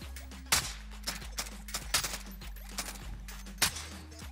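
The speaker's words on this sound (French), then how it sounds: "Y'en a des coups qui passent à notre droite" Scattered gunshots and sniper fire in a Call of Duty Warzone match, a string of sharp cracks at irregular intervals over a low steady hum, some near and some farther off.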